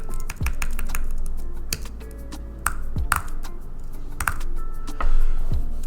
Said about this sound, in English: you enter your test card number